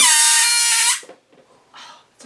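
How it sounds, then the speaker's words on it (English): A rubber balloon lets air escape through its stretched neck in a loud, shrill squeal lasting about a second, then it stops abruptly, leaving brief quiet rustling. "But it's the sound of air escaping"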